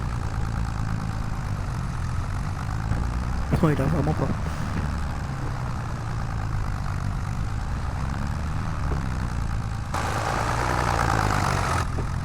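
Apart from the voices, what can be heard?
tractor engine straining while ploughing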